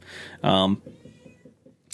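Weatherby, a pet cat shut out of the laundry room, lets out one loud, drawn-out meow close by, followed by softer faint sounds, with a voice briefly present.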